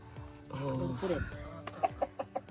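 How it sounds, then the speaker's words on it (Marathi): Chickens cluck nearby in a backyard coop in rural Konkan, Chiplun, ending in a run of short rhythmic clucks, with a big rooster's call and some voices mixed in. "मोठा कोंबडा आहे हे खुराडा केलेला आहे आम्ही कोंबड्यांचा"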